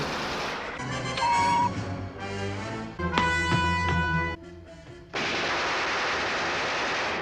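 Gunfire from a Star Trek original series episode, "Bread and Circuses": sustained loud bursts of shots over a musical score, the music shifting midway before the firing returns as a dense, steady roar at the end.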